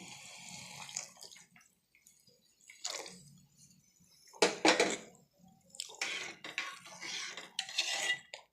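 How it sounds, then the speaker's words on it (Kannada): Milk poured into a pot of payasam on the stove, with faint splashing, liquid trickles and a few clinks of utensils in short irregular bursts, close and fairly quiet. "ಈಗ ಒಂದು ಲೋಟದಷ್ಟು ಹಾಲು ಹಾಕ್ತಾಯಿದ್ದೀನಿ."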